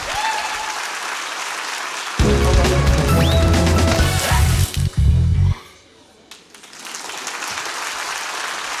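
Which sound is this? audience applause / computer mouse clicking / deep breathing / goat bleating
audience applause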